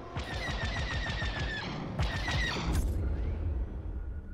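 In the Star Wars: Squadrons video game, a space station's defensive turrets open fire in rapid bursts of laser shots, then pause and fire another short volley before a sharp blast, with a low hum continuing underneath.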